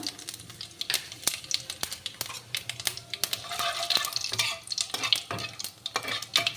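Bay leaf and cumin seeds fry in hot oil with a soft steady sizzle, broken by repeated sharp clinks and scrapes of a spoon stirring in the pan.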